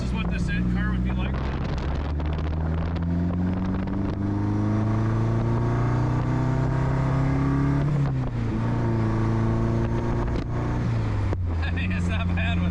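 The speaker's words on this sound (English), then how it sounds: "Although you still get the turbo noises right now." A turbocharged Datsun 510 with a KA24 engine accelerates through rising, loud engine drones inside the car, with pitch climbing in pulls and dropping at shifts, under wind noise.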